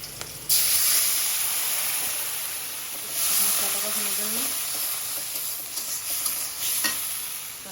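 Onion hisses loudly as it is added to hot oil for a puti fish curry, starting abruptly and holding a strong close sizzle with stirring and brief faint voice underneath.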